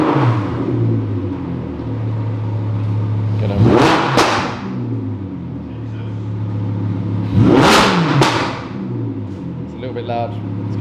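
An Audi R8 engine runs strapped down on a dyno, a steady loud drone broken by two sharp, rising revs that peak and fall back, each ending with a crisp pop.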